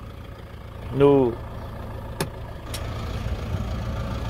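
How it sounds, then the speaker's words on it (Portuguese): Toyota Hilux 3.0 diesel engine running after being reassembled: a steady low idle rumble, with someone talking briefly over it and a couple of sharp clicks. "Olha o barulho do motor, moçada."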